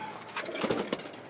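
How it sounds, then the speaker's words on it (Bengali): A pigeon kept in a home loft gives a few soft, low coos in a short burst, fairly close, over a quiet background hiss. "এই যে একটা কবুতর, এটা হইলো আমার ফোর সাইড"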